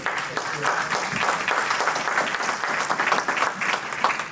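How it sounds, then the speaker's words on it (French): An audience applauds four panel speakers at a business conference on international company success stories, a steady dense wash of clapping holding at even loudness throughout with no talk over it. "je crois qu'on peut les applaudir"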